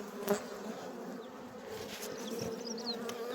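Honey bees buzzing around beehives being inspected after winter, a steady close swarm hum with individual bees darting past, no talking.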